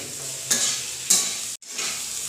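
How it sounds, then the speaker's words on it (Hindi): Potato and tomato with sambar masala powder fry in a pan as a spoon stirs them, giving a steady close sizzle broken by two bright scraping strokes and a momentary cut. "सांभर मसाला पाउडर डालने के बाद हम इसे अच्छी तरीके से मिक्स कर लेंगे।"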